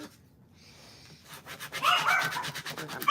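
Firm rubbing strokes of a burnishing tool pressing a vinyl decal onto a water bottle, starting quiet and growing louder and busier in repeated scraping passes, close and with no talk.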